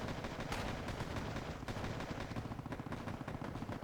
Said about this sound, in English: this thing is out of rockets, the Heavy Hog, so it's shooting its Mark 19